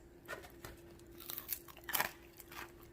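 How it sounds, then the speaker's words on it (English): Crisp crunching bites into air-fried french fries from a Cosori 5.8 quart air fryer, several sharp crunches and chewing sounds close to the microphone, with no talking. "Let's give it a crunch test."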